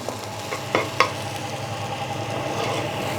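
Onions frying in a pan for a Thai kebab sauce, a steady low sizzle with a few sharp clinks of a utensil stirring near the start, continuous and fairly close.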